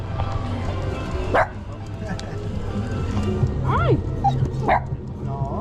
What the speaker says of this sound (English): Excuse me. Do you mind if I pet your dog?